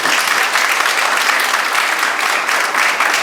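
Loud, dense applause from degree college students at an anniversary celebration, steady and sustained throughout with no break.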